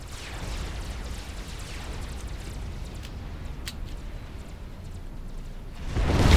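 A base blows up in the real-time strategy game Forged Alliance Forever, a continuous roaring rumble of explosion and destruction that holds steady, then swells into a louder boom at the very end.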